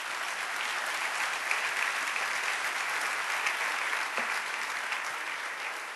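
An audience at a Spanish-language church sermon on the feast of Purim breaks into sustained applause, a dense, even roar of many clapping hands that holds steady throughout with faint crowd murmur beneath.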